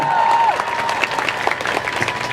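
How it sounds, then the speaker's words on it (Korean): A crowd at the weekly Wednesday demonstration in Seoul over Japanese military sexual slavery bursts into applause and cheering, a sustained close roar of clapping with a brief tonal whistle at the start. "동의하시면 여러분 힘찬 함성과 박수로 함께 결단해 주셨으면 좋겠습니다"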